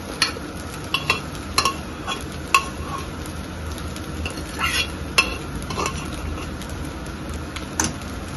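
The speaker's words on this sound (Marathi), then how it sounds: "आता ह्याच्यामध्ये आपला भात घालून मिक्स करूया." Cooked rice stirred into a hot pan of coconut narali bhaat, a steady close scraping and shuffling with occasional sharp clinks of the spoon against the metal pan, with no talking.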